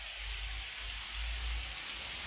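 Rain falls steadily in a Roblox game, a soft, even hiss of drops with a low rumble underneath, faint and uninterrupted.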